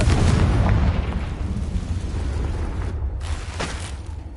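A fiery spell blast in a Harry Potter-style video game, a loud booming explosion that rumbles on with crackling, a brief gap, then a second sharper burst.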